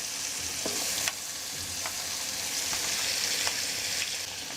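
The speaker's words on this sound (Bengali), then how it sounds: "শুটকি মাছ ভেজে নেওয়ার পর অবশিষ্ট তেলে আমি এখন দিয়ে দিচ্ছি রসুন কুচি, দিয়ে দিচ্ছি পেঁয়াজ কুচি" Chopped garlic and onion frying in oil left over from frying dried fish, a dense continuous sizzle with a few soft clicks of stirring, close and steady with no talking.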